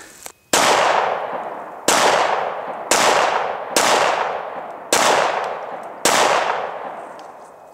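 Six sharp, loud 9mm handgun shots fired at an orange cube target from 21 feet, each blast ringing out with a decaying echo, spaced roughly one second apart with no talk.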